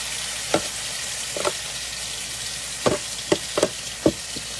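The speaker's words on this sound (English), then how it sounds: "what I'm gonna do is start putting in that hot oil" Food pieces, some large and some small, lowered into hot oil, giving a steady background sizzle with several sharp crackling bursts as each piece goes in.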